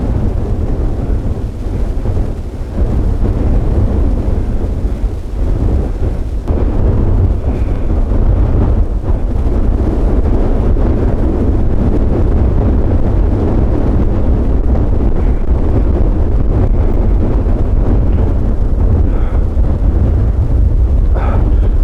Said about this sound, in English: Last time the wind was blowing like this